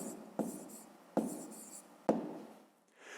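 A pen scratches across paper while a math exercise is written out, three distinct bursts of writing about a second apart, each starting sharply and trailing off, close and fairly quiet with no talking.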